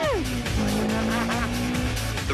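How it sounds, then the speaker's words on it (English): A sports car engine with a 6-speed gearbox revs hard, the pitch dropping with a gear change and then climbing steadily as it accelerates, loud and close. "The revs build up so quickly, you're always shifting up the 6-speed gearbox."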